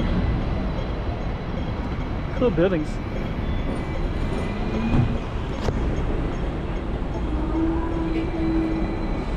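Steady rumbling roar of a tram passing nearby on North Street in Kennedy Town, Hong Kong, continuous throughout, with a brief voice speaking over it.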